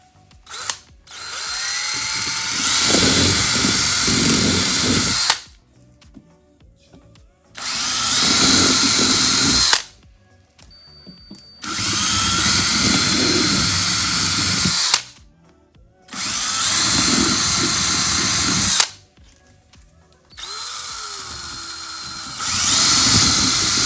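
A power drill bores holes for the door rails on a black Ford Mustang, running in five loud, close whirring bursts of a few seconds each, separated by short quiet pauses.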